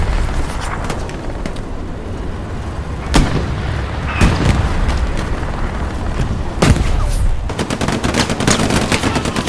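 Machine gun fire in Hell Let Loose, a World War battlefield setting, with continuous rattling bursts, scattered sharp cracks and several heavy booms over a dense, loud din, ending in a rapid automatic burst.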